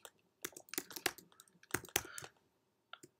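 Quick, irregular bursts of typing on a computer keyboard, crisp close clicks in clusters with brief pauses, no voices.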